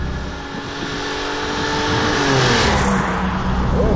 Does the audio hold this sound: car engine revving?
yes